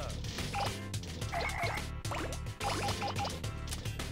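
Frogs croak in Katamari Damacy Reroll, a run of short ribbed calls rising over steady, busy game music that fills the whole stretch.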